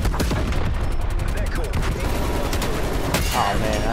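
Artillery strike in Call of Duty: Black Ops Cold War, loud dense barrage of gunfire and explosive blasts throughout, rumbling low booms under the rapid fire, with game sounds layered on top.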